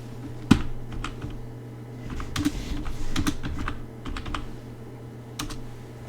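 Quick bursts of typing on a computer keyboard entering a Google search, clustered key clicks in short runs with pauses between, close and clear with no talk.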